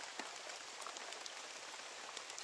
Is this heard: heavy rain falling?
yes